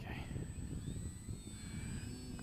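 A Maxford USA Gee Bee-E 1500mm electric RC plane flies past, a steady distant whine with shifting pitch over low outdoor rumble, while voices murmur faintly.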